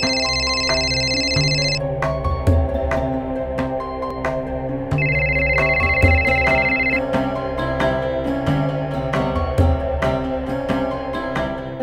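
A phone ringtone sounds in two bursts of repeated high electronic ringing. The rings come over a background of indoor music with regular beats, in a domestic scene from a TV drama.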